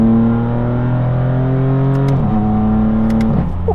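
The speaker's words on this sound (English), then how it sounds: "Now ease into full throttle." A straight-piped BMW accelerates at full throttle on a highway, its loud, raspy engine drone climbing in pitch, dropping briefly at a gear change, then rising again, heard from inside the car.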